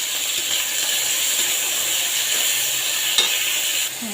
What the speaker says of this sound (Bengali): আমি এখন পেঁয়াজের মধ্যে মাংসটা ভেজে দেব।